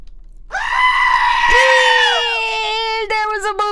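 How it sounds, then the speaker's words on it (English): A goat scream sound alert on a livestream, one long, loud, harmonic bleating scream that rises, holds and then warbles to a stop, alone with no talking over it. "There was a Boopsy goat scream."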